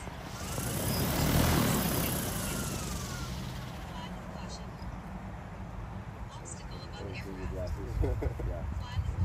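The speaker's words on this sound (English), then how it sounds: "so they're firing up the drone" A camera drone's propellers spin up with a rising whir that swells loudly early on, then settle into a steady buzzing hum over an outdoor background.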